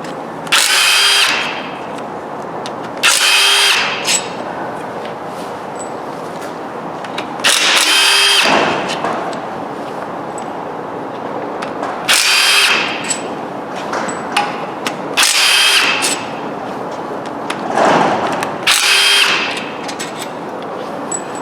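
A power tool spins out the bed plate bolts on a Dodge 4.7 engine, with repeated loud bursts of whirring and rattling impacts, each a second or two long and separated by quieter pauses.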